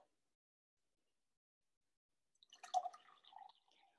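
Water dripping or being poured indoors, heard after a long silence as a brief, faint cluster of small splashes and trickles.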